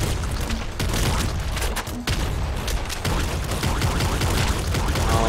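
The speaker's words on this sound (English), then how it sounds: "The explosions." A dense, continuous barrage of loud booms and blasts from the video game Nuclear Throne, rapid and overlapping like battle effects, with no pause.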